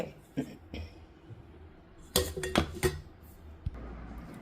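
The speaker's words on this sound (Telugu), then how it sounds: "ఇప్పుడైతే నేను ఇది కలిపేస్తున్నాను కలిపి తింటానమాట" Hot rice being mixed by hand with lentil powder, ghee and mango pickle on a plate, a few soft scrapes and then a quick cluster of clinks and taps against the dish.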